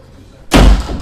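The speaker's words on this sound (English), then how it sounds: "Just close this door for a moment." A door is pushed shut with a single loud, close slam and a heavy thud, followed by a brief fading rumble.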